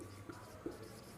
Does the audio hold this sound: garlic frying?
no